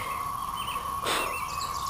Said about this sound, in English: These cicadas.